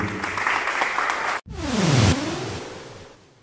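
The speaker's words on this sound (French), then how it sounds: "Merci, on applaudit." Audience at a Plateau de Stars television show applauds right after a minute of silence, a broad wash of clapping that swells, breaks off briefly, then resumes loudly before tapering off.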